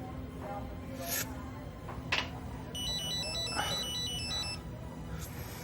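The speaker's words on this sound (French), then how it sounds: "Réponds à ton maudit téléphone, s'il te plaît, réponds." A phone ringtone sounds indoors in a French-dubbed Turkish TV drama: a short electronic trilling melody that chirps for about two seconds over a low background hum, with brief scattered noises before and after.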